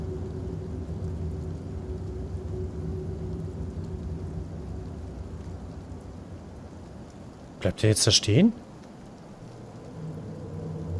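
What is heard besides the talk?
rain and thunderstorm in video game Fears to Fathom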